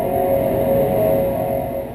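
A 2012 Fisker Karma electric car drives along with a steady synthetic hum and high whine over soft road noise, constant and even.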